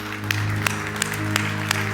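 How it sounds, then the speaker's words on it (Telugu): Church congregation clapping loudly in unison during a worship service, steady rhythmic claps about every third of a second over a sustained musical backdrop. "బిగ్గరగా చప్పట్లు దేవుని స్తోత్రాలు చెల్లిద్దాము"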